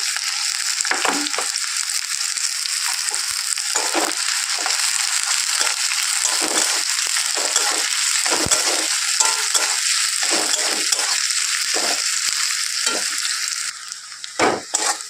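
Chopped onion frying in hot oil for tarka, a dense continuous sizzle with frequent scraping strokes of a spatula stirring through the pan, close and loud throughout.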